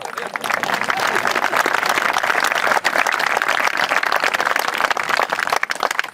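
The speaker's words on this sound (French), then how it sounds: "Oui, on peut applaudir." Lively audience applause at a French theatre show, dense clapping from a sizeable crowd that is loud and close and stays steady for several seconds.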